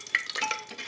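Mustard seeds frying in hot oil in a pressure cooker while stirred, a brief burst of close crackling and spitting with a light scrape, under a second long, no speech.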